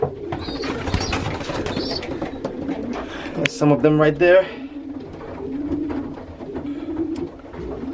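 Young racing pigeons, a flock of around twenty, coo in low repeated bursts close by, with someone talking over them for much of the time.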